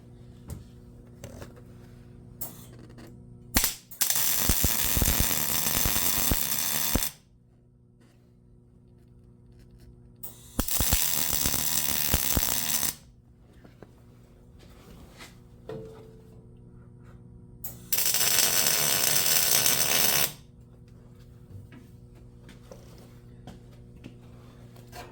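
Tack welding an axle truss onto a Ford Ranger: three separate loud, crackling bursts of several seconds each, with quieter shop noise in the gaps between them.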